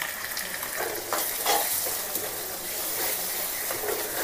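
Homemade local curd hits frying chicken biryani masala in a pan, bringing a loud, close sizzle with scraping stir strokes running throughout, no voices.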